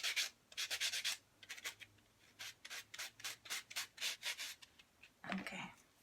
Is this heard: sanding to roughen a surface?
yes